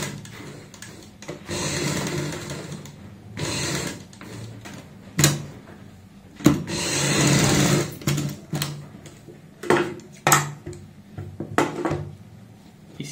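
A sewing machine stitches a kurti in repeated loud whirring runs of a few seconds each, broken by short pauses and sharp clicks as the fabric is repositioned.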